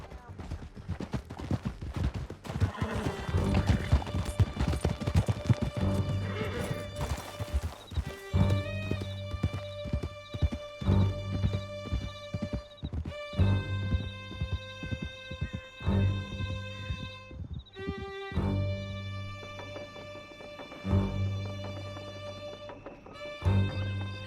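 Horses galloping in Red Dead Redemption 2 during a canyon escape, steady clip-clop hoofbeats under a loud game music score, with occasional whinnies and scattered gunshots, and voices speaking at times.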